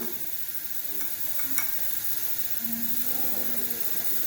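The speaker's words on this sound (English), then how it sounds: "So we are giving it a little bit of a stirring" Stirring a hydrogel nanocomposite mixture makes a soft, steady hiss with faint scraping swirls and a couple of sharp clicks against the container, close by and quiet.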